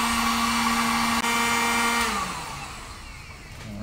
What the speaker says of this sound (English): Use the heat gun